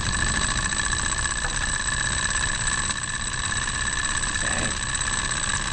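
A small ethanol-fuelled Stirling motor runs steadily, a continuous, even mechanical hum and whir with a faint rhythmic chatter, close by and without speech.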